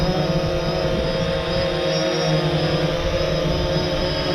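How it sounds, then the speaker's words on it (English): A DJI Phantom 3 Standard drone flying outdoors in high winds gives off a constant, loud whining buzz of its motors and propellers, blended with gusting wind noise throughout. "You guys can see the drone."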